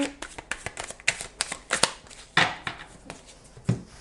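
A deck of cards is shuffled close up in a series of quick riffling bursts and soft slaps, with brief pauses between them.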